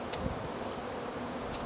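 A swarm of bees gives off a steady, even buzzing drone, fairly faint and unbroken, with no voices present.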